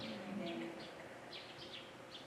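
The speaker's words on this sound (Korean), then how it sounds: "무슨 소리가 들려요? 새소리." Birds chirp faintly outdoors during a quiet sitting meditation, with scattered brief calls over a soft steady background of wind and ambience.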